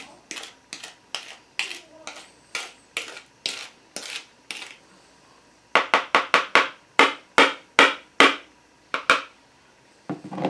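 A mixing bowl scraped down while making peanut butter oatmeal cookie dough, heard as a steady series of sharp, close scraping strokes in a regular rhythm that speeds up midway.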